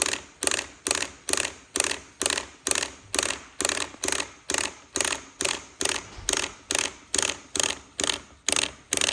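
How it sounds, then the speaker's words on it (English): A Beta motorcycle's hydraulic clutch lever is pumped during bleeding of a rebuilt master cylinder, giving a steady run of about twenty evenly spaced mechanical clacks, close and distinct, with no talking. "it's getting harder to pull the lever in"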